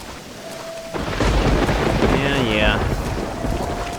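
Thunderstorm in Red Dead Redemption: steady rain hiss with a deep thunder rumble rolling in and swelling, while someone briefly speaks a word over the storm.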